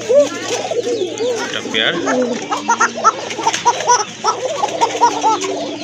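Domestic pigeons kept in pairs for sale coo repeatedly in soft, throaty bursts nearby, with some wing flutter. Someone talks over the birds.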